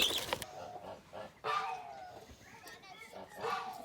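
Small chicks clucking and peeping in short bursts close by, with scattered chirps over a noisy background.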